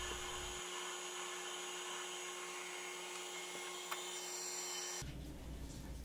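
A reamer turning at the lowest pulley speed on a Benchmaster horizontal mill gives a steady machine whine and hum for about five seconds, a sharp tick near the end, then the tone cuts to a duller rumble.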